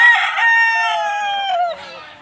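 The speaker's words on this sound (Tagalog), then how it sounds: "Dami pang mga manok guys" A chicken crows loudly and close by on a Filipino backyard flock, one drawn-out call that falls in pitch at the end, clear and alone without talk.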